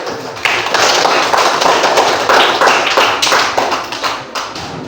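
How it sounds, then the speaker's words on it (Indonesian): Children clapping their hands together in a classroom, a dense, rapid burst of many close hand claps that continues steadily throughout with little talk. "Tepuk tangan dulu."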